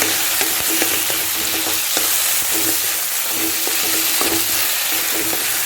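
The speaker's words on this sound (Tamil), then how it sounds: "வெங்காயம், பூண்டு, பச்சை மிளகா எல்லாம் நல்லா வதங்கிட்டு இப்போ தக்காளி போடுவோம்" Tomatoes go into a pan of sautéing onion, garlic and green chilli for a rice-and-dal lunch dish, giving a steady, close sizzle with regular stirring scrapes and light clinks throughout.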